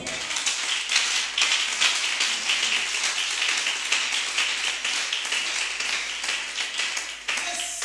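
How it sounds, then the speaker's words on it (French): A church congregation claps steadily for several seconds, a dense patter of many hands at moderate loudness with no distinct cheering voices. "Est-ce que je peux entendre un amen et une forte acclamation?"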